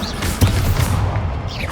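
A Confringo fire blast spell strikes in the Hogwarts Legacy video game amid combat, a close, loud booming impact among several sharp hits and bursts over a continuous rumbling battle din.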